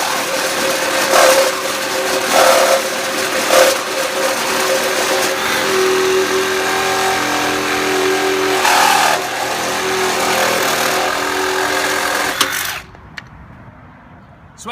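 Milwaukee cordless Sawzall reciprocating saw with a 5 TPI Axe blade cutting through material, a steady loud buzzing drone with rhythmic surges, running continuously for about twelve seconds before cutting out abruptly.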